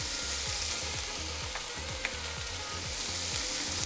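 Meatball soup base sautéing in a pan, a steady bright sizzle with a regular scraping rhythm of stirring, close and alone without speech.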